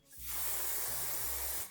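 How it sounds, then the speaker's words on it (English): Perfect Touch Stay Spray Super Hold hairspray sprays onto a hairbrush in one steady, close hiss lasting over a second, clean and alone with no talking. "So I just sprayed hairspray onto the brush."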